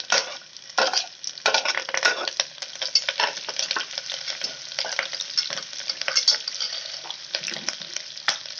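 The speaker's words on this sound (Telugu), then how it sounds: "ఇప్పుడు ఉల్లిపాయ, 2 పచ్చిమిర్చి కూడా నిలువుగా కట్ చేసి వేసుకోండి." Sliced onions, green chillies and curry leaves fry with cashews in hot oil, a close, continuous sizzle broken by bursts of stirring scrapes in the pan.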